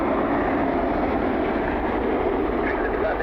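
A Southwest airliner taking off at Cleveland Hopkins International Airport produces a steady, loud, broad jet roar that holds constant throughout without any break.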